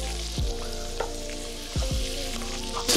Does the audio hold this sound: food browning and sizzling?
yes